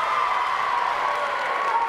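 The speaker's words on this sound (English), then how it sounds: "what a crowd we have on hand here today. Great showing." Spectators applauding steadily at an eighth-grade middle school all-star basketball game, a dense, continuous wash of clapping and crowd noise filling the gym without a break.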